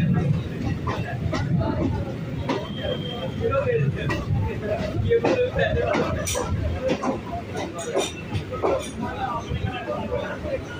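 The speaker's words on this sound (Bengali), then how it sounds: "আর আমাদের ট্রেনটি এখন ঢুকছে হচ্ছে" A commuter train pulls into BBD Bag station after the run from Sealdah, a steady loud rumble of wheels and carriage noise with squeals and clatter, under chatter from passengers on board.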